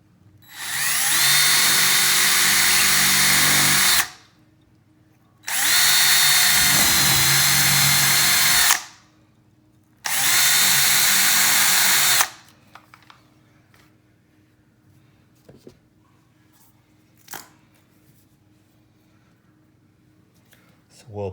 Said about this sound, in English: we can drill a new hole inside of the existing one